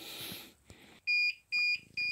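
A low-battery warning from an off-grid power system whose battery has dropped to 10.9 volts inside a small hut in the woods: three loud, steady electronic beeps spaced evenly, following faint background noise.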